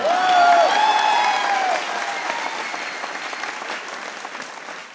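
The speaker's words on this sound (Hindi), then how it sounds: "बजा सकते हो तालियां, बजा लो।" A studio audience at a comedy show claps in a burst of applause, opening with a high whistle and then thinning and fading over a few seconds.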